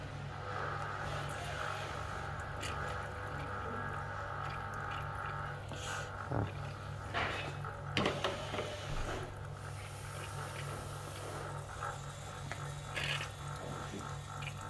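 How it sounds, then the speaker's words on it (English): A machine's boiler refills with water, giving a faint, steady pumping hum with a trickle of flowing water and a few soft clicks throughout. "the refill of the boiler"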